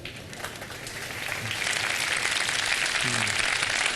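A studio audience at an iftar television show applauds, a dense continuous clapping that swells louder after the first second and holds steady, with a brief faint voice beneath.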